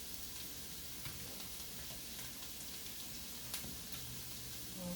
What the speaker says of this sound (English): I'm going to stir my peppers since they're getting a nice sizzle.